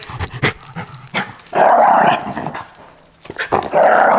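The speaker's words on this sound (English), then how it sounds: "I don't think I've heard Charlie really growl yet." Charlie, a dog, growling in low rumbling bursts broken by short pauses, close and fairly loud, with a few yips and whimpers mixed in.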